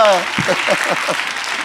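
Audience applause for a jury member rises at an event as a voice finishes speaking, a steady wash of clapping with a few rhythmic voiced sounds over it.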